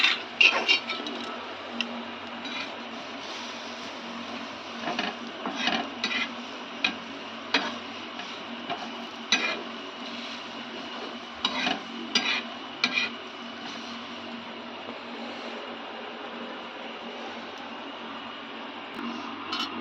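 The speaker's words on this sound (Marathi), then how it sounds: "त्याच्यातच हे अद्रक चिरलेले, पण अद्रक भाजून घेते मी." Chopped ginger and onion roast on a hot tava, with soft intermittent scraping and stirring ticks and faint sizzle, irregular and close, with no talk over them.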